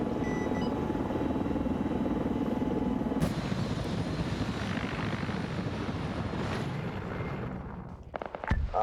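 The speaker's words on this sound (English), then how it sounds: "Advise enemy MI-24 in the air." Enemy Mi-24 helicopter in a military video game, a steady loud rotor and engine drone filling the scene, briefly punctuated near the end by sharp impacts as the noise thins out.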